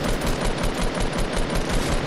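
Minigun fire in a video game, a dense, loud, continuous rattling burst sustained throughout with no pauses.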